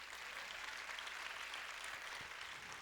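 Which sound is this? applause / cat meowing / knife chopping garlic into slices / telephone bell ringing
applause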